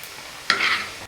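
Garlic frying in oil in a pan for a tomato-garlic thokku, with a faint sizzle that jumps into a louder burst of sizzling and stirring midway before cutting off.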